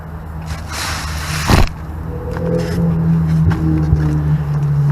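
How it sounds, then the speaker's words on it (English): A Ferrari sweeps past outside a garage where a truck sway bar is being fitted, a steady engine drone swelling and falling with a sharp broadband whoosh as it goes by, fairly loud against the background. "There goes Mr. Ferrari."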